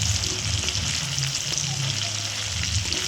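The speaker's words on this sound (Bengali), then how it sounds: "চিকেনগুলো আমি ভালো করে ভেজে নিয়েছি, তুলে নিচ্ছি" Chicken pieces frying in oil, a dense close sizzle with faint stirring, steady and loud for the whole stretch.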